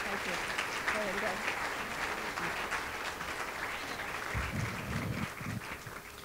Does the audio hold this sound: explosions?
no